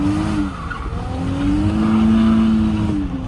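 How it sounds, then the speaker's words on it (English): A Cadillac with a welded differential roars steadily while being driven hard on a test drive, with sustained tire squeal rising above the loud engine noise from close by. No one speaks. "I've been test driving a little bit with the welded diff"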